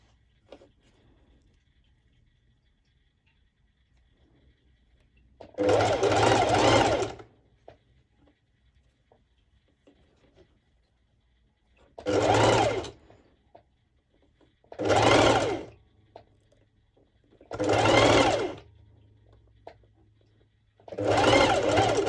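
Sewing machine running a long straight stitch along the edge of fabric for ruched shorts, five separate bursts of steady whirring, the first longest, with quiet pauses between them.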